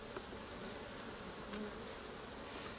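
Honey bees buzz around an open hive during an inspection, a faint, steady, close swarm drone with a few individual bees passing nearer.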